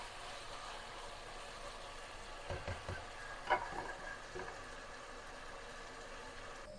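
Chicken curry cooks in a pan with a quiet, steady sizzle and a few soft stirring scrapes near the middle, faint and continuous throughout.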